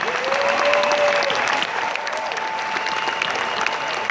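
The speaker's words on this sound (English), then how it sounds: "Everyone, please clap for each and every new executive that's in the room." A roomful of people at a Singapore business expo applauds new executives, broad continuous clapping held at a steady level, with a faint tonal hum running beneath it.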